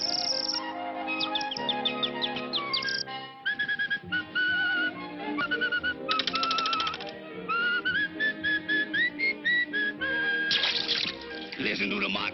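A 1946 cartoon cat whistling a bright, warbling melody full of trills and chirping runs, played alone with little else behind it.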